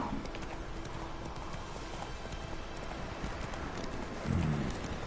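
A horse's hooves clip-clop in a fast, steady galloping rhythm in The Witcher 3, loud and continuous with no talk over it.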